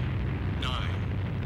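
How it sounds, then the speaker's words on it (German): A rocket lifts off after a countdown in Sonic Adventure 2 Battle, a brief rising roar and burst that swells briefly over a steady game backdrop, with a voice talking beneath it. "bei 3 startet die Rakete"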